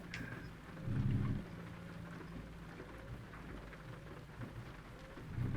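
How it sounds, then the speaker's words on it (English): Steady rain falls in the American Truck Simulator video game, a constant soft hiss with low rumbling thunder-like swells near the start and end, heard alone with no talk. "you also get rain."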